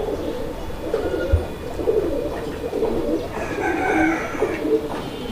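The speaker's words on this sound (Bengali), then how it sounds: "তো বন্ধুরা আপনারা দেখতে পাচ্ছেন এখানে এক জোড়া চিলা কবুতর আছে" A pair of Chila pigeons coos repeatedly at close range, with low throaty murmurs running steadily and a few brighter calls mixed in, and no voices.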